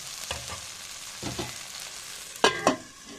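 Spice masala for ghugni fries in a pan, a soft steady sizzle broken by a few louder scraping stirs, heard close with no voices.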